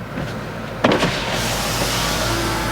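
The power convertible roof of a 2018 BMW M6 lowers with a steady electric motor whir. A mechanical clunk comes in near the start, and then the motor keeps running evenly close by.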